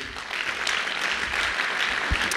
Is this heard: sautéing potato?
no